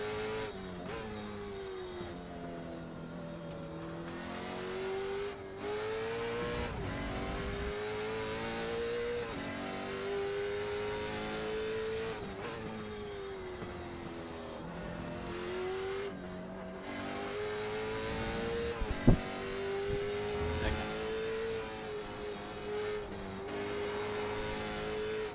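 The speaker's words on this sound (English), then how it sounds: "There's a car approaching." Race cars in a sim-racing league event, Trans Am and Gen 3 Supercars, drone steadily with engine notes rising and falling through gear changes as one car closes in and passes, loud and continuous without talk.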